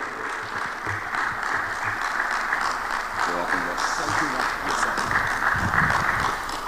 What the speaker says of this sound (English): Keep clapping for Agati as he comes here.